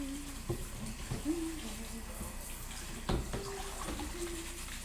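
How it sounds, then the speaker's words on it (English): Tap water running in a kitchen sink while carrots are washed, a soft steady hiss with a few clunks and splashes as the carrots are handled, faint and fairly close. "Okay, we're gonna wash these carrots."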